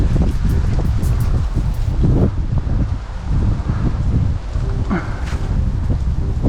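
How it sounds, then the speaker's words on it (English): Gusty wind on an outdoor disc golf course buffets the microphone in loud, uneven rumbling bursts, mixed with rustling and some faint voices in the background. "the wind just really caused it to fade"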